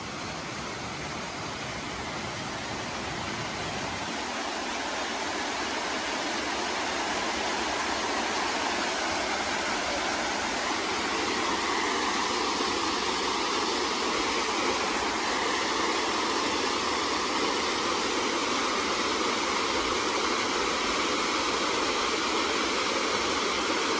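Constant roaring rush of a strong waterfall, Otso Otso Falls in San Jose del Monte, Bulacan, broad and steady, filling the whole scene with no other sounds standing out.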